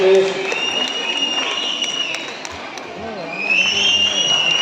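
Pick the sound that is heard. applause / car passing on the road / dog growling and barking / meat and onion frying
applause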